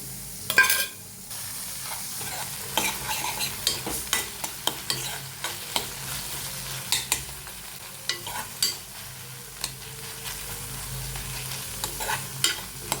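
A curry base of chilli powder sizzles in a pan while being stirred, with steady frying hiss and repeated scraping clicks of the spoon, close and fairly quiet.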